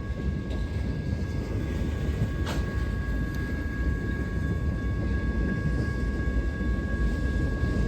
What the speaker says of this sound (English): I think it's ironic that we got stopped by a train.